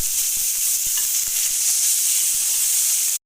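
Onion paste sizzles steadily in a pan of chicken korma, a bright continuous hiss with soft scrapes of stirring tapping through at irregular intervals, close and loud with no talk.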